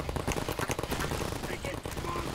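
Rapid automatic gunfire in Half-Life 2 Episode Two while shooting antlions, dense bursts rattling continuously, close and loud, with a voice talking over it.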